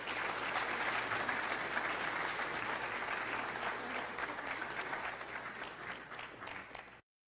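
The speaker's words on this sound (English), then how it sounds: "along with one last round of applause" Audience applause after an executive leadership series talk at a university, a dense, sustained wash of clapping that holds steady and then thins out before cutting off abruptly.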